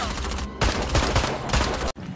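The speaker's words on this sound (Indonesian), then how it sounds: "Jackson kena tembak di perutnya dan menyuruh Michael untuk berpencar" Rapid bursts of gunfire in a movie police shootout, loud and close, with dense repeated shots filling the moment before a brief cut near the end.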